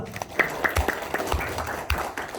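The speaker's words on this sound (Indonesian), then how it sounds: "Tepuk tangan untuk kita semua" Scattered applause from a small audience at a beauty and health workshop, with a handful of distinct claps over a murmuring room.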